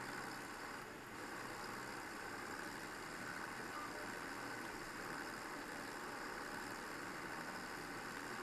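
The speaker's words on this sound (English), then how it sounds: "This tractor is really struggling." A Farming Simulator tractor engine labors steadily under heavy load, a constant dense drone that stays at an even, moderate level throughout with no pauses.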